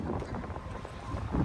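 Strong wind buffets the microphone in low, rumbling gusts, loud and close, with no voices, outdoors in Intramuros, Manila.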